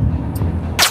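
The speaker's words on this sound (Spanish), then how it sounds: "¿Y ahora de dónde vino ese disparo?" A single gunshot in The Last of Us Part II cracks sharply near the end after a low rumbling background, loud and close with no speech.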